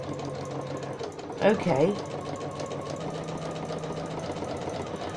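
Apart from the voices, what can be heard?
sewing machine sewing a zigzag stitch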